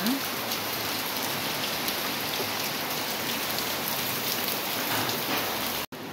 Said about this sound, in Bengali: কেমন বৃষ্টি শুরু হলো দেখো